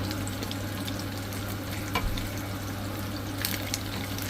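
Rooster meat frying in a pan, a steady close sizzle and crackle throughout with a few brief stirring clinks; no speech.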